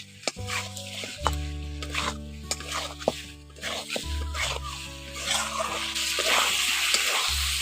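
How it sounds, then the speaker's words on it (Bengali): Fried potatoes are stir-fried in tomato masala, with repeated scraping and clattering of the spoon against the pan over a low sizzle. Steady tonal sounds run underneath throughout. "এখন আলুগুলো দিয়ে একসঙ্গে ভালো করে কষে নিচ্ছি।"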